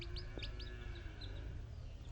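Incubator-hatched deshi chicken chicks, of a fast-growing naked-neck breed, give a series of short high peeping calls outdoors, fairly faint over a low background rumble.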